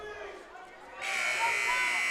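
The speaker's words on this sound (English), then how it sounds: "saved by the buzzer" A period-ending buzzer at a high school wrestling triangular rings out loud and steady for about a second, cutting in halfway through under a gymnasium crowd and announcer talk.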